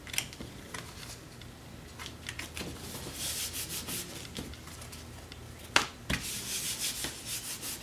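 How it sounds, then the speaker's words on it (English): A bone folder rubs across a glued paper cover for a mini album, giving a close, dry scratchy friction in uneven strokes with a few sharp taps. "I'm gonna take my bone folder here, just kind of give it a little rub."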